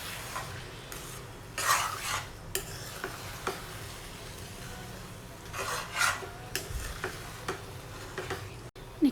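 Spatula scraping and stirring cabbage and eggs in a pan, irregular scrapes and taps with a faint sizzle underneath, close and moderately quiet, no talking.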